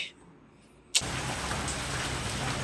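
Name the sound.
heavy rain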